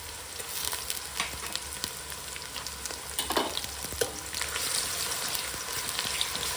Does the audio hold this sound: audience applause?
no